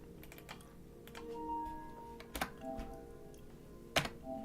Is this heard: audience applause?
no